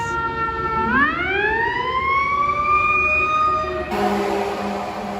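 A fire truck siren on 14th Street in Manhattan, New York City, rises in a loud wail and holds a high steady tone, joined near the end by a harsher horn blast.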